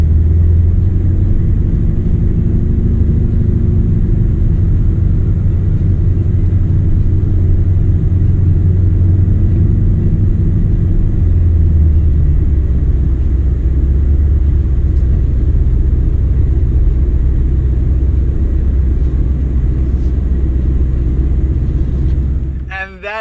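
A Lamborghini Urus running up the hill climb at the 2019 Goodwood Festival of Speed, its engine a loud, continuous low rumble with rising and falling pitch heard from inside the cabin, with talk over it.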